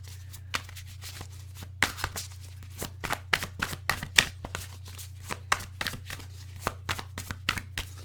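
Cards are shuffled up close in quick, irregular bursts of crisp riffling and slapping, with a low steady hum underneath and no voices.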